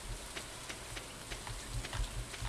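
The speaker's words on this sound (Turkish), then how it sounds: "Allah'tan yağmur da yağıyor" Rain falling in the farming video game Stardew Valley, a soft continuous patter with light scattered drop ticks, fairly quiet and steady with no voices.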